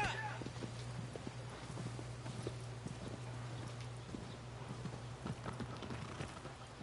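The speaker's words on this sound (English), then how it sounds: "The horse is gonna slow down a bunch now." A horse's hooves clip-clop at a steady walking rhythm in the video game Shadow of the Colossus, quiet and even, with faint voices talking over it.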